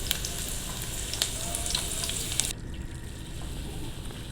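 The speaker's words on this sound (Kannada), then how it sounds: "ಈಗ ಒಗ್ಗರಣೆ ಮಾಡ್ತೀನಿ ನೋಡಿರಿ. ಅದಕ್ಕೆ ಸಾಸಿವೆ ಜೀರಿಗೆ ಬೆಳ್ಳುಳ್ಳಿ ಹಾಕೀನಿ ರೀ" Mustard seeds, cumin and garlic sizzle in hot oil for a tempering, a close, bright crackling hiss with small pops that drops abruptly to a quieter simmer partway through.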